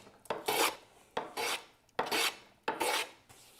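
A hand tool shaves across the grain of a wooden stool seat in four rasping strokes, each a bright scraping burst with short pauses between, close and loud with no voices.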